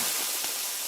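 Hamburgers sizzle on a restaurant grill, a steady bright hiss and crackle held for under a second, close and moderately loud with no voices.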